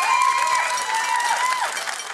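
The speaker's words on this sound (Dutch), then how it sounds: "Geef haar een warm applaus." A live crowd at a student competition event claps warmly and steadily over a sustained musical tone, filling the short stretch at an even level.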